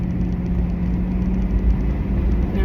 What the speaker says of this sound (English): I'm driving the big truck.